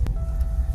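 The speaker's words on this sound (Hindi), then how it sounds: "और सामने से आ गई गाड़ी, ABHP नंबर थार है" A Mahindra Thar SUV approaching on a snowy mountain road in Spiti Valley, a low engine rumble at moderate distance, fairly quiet and steady with a faint tonal hum.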